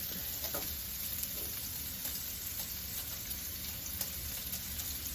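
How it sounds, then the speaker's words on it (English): Philly cheese steak ingredients sautéing in a pan give off a constant, even frying sizzle at moderate level with faint scattered crackles, no voices present. "I'm just going to let this here saute up here some"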